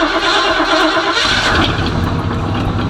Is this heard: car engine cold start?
yes